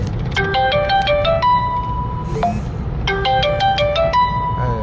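A phone ringtone plays two repeated bursts of bright electronic melody notes over steady background noise.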